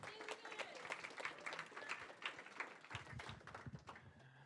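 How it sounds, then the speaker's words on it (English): Soft, scattered clapping from a small group at a student club meeting, quiet and a little distant, with voices talking over it. "Round of applause for Lucas for setting up the stream today."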